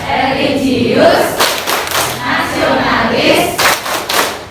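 An audience at a school curriculum training event in Kranggan claps in unison during the Tepuk PPK clap chant, loud rhythmic hand thumps mixed with a group chanting voices throughout.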